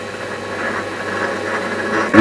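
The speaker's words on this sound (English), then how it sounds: "My lathe set to about 150 RPM or thereabouts." A metal lathe turning slowly at about 150 RPM while knurling, a steady mid-pitched mechanical drone with faint rhythmic pulsing, running alone without talk and ending in a brief bump.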